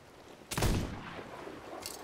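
A single gunshot for a headshot in a video game, one sharp, fairly close report followed by a brief fading tail, with a fainter thump near the end.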